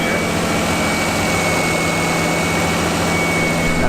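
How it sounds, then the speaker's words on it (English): A Nissan 240SX S14 with an RB25DET engine idles steadily while its alternator gives off a faint, constant high-pitched whine above the dense, even engine rumble. "This alternator is making a little bit of a noise."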